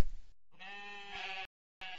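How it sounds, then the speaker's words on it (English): A sheep gives one long, wavering bleat, clear and close, followed by a short silence and the start of another call. "Sheep."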